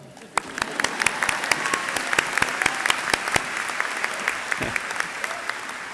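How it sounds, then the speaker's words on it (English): An audience at a university commencement ceremony breaks into applause, a broad rush of many hands clapping with sharp individual claps popping out close by, rising quickly and holding steady. "yeah, you can applaud"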